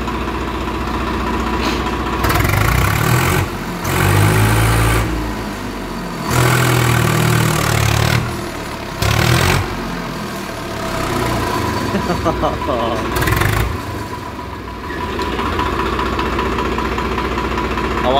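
Swaraj 744 tractor engine idling steadily nearby, a continuous low throb with loudness swelling and dipping as the engine note shifts, with people talking over parts of it.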